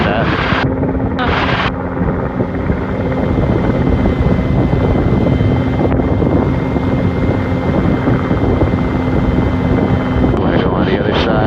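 A Rotorway helicopter holds a hover with a steady droning rotor and engine whine heard from inside the cabin, constant and loud, with brief radio-like crackles.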